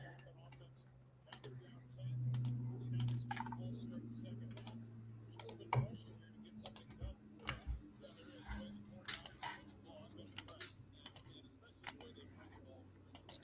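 Computer keyboard typing and mouse clicking while someone updates a scoreboard during a 49ers vs Colts game, a scatter of sharp irregular clicks and taps over a low steady hum, with talk in the background.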